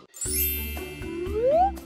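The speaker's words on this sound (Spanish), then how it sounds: "El teléfono de Artem" A mobile phone rings in a playful children's toy story, with bright chiming ringtone tones and a rising melodic sweep repeating twice at moderate level, closely recorded.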